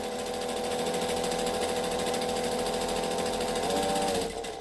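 A sewing machine stitches a rolled hem in a steady, fast mechanical whir with a rapid needle rhythm, loud and close, slowing and stopping at the very end.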